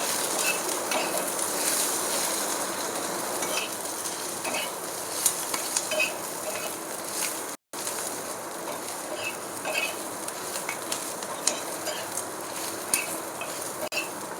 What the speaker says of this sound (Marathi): कांदा चांगला भाजून घेतला पाहिजे।